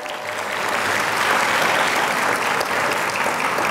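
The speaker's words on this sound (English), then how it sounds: "You all can clap." Audience applause at a networking luncheon for a guest speaker: a dense, steady wash of clapping from a sizable crowd that holds for several seconds, fairly close and with no voices.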